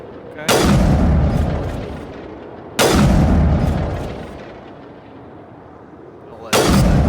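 Three loud, booming sniper rifle shots fired in the Mass Effect video game, each a sharp crack with a long rumbling decay, spaced a few seconds apart.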